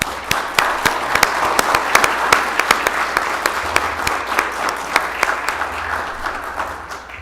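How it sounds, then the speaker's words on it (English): A meeting audience applauds steadily throughout, a dense wash of many hands clapping at close range with some individually audible sharp claps standing out, no voices over it. "let's just give him a round of applause"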